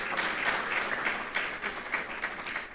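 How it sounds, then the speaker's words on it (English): Graduates and guests at a closing ceremony for a public leaders programme give a round of applause, a moderately distant patter of claps with some individual hand strikes standing out in an uneven rhythm. "Give yourself a big round of applause."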